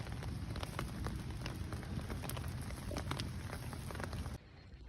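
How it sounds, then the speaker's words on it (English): Steady rain patters on a tent fly and the ground at a campsite while a campfire crackles with scattered sharp pops, continuous and close, cutting off abruptly near the end. "listening to the rain and the fire."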